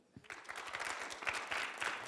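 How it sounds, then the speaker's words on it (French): Audience applause at a debate, a burst of dense clapping that starts abruptly and carries on evenly, moderately near and fairly loud throughout. "On l'applaudit?"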